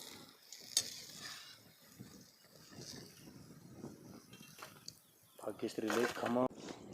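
Bottle gourd fritters fry in an iron kadhai over a wood-fired stove, a crackling sizzle with scattered pops, and a voice speaks near the end.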